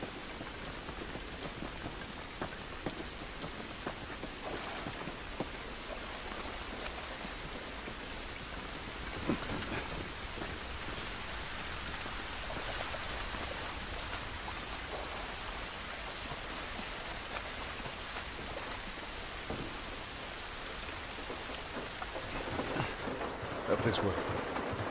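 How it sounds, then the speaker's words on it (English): Steady rain pours down in the video game The Last of Us Remastered, a dense continuous hiss of drops on surfaces with a faint distant rumble of thunder, unbroken throughout and without talk. "This rain ain't gonna do us any good."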